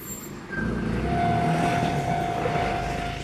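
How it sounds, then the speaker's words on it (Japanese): A local train bound for Chofu pulls into platform 2 on the down line at a station, with a steady rolling rumble building up and a thin motor whine held over it, close by and fairly loud, with no voices. "今回はね、下り線にその列車がやってきたんですかね"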